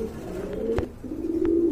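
A pair of solid deep red Siraji pigeons coo in low, steady rumbling tones at close range, with a soft wing flutter or tap in between and no one speaking.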